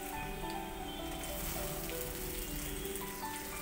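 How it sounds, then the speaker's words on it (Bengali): Chopped garlic and a large chopped onion fry in a pan over a medium gas flame, giving a steady, even sizzle like light rain that runs throughout without any voices. "গ্যাসের ফ্লেম মিডিয়ামে রেখে পেঁয়াজ এবং রসুন ভালো করে ভেজে নেব"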